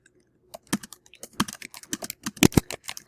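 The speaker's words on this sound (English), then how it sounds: "you can go ahead and start typing" Someone types on a computer keyboard in quiet surroundings. Irregular bursts of crisp, close key clicks speed up into a quick run of taps, and no one speaks.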